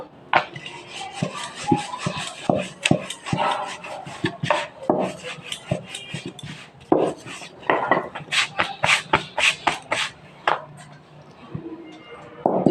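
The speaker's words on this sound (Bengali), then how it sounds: "বন্ধুরা দেখো, রুটিগুলো বেলে নিচ্ছি।" Roti dough being rolled out on a board with a rolling pin, a steady run of clattering knocks and scraping strokes repeating for many seconds, fairly close.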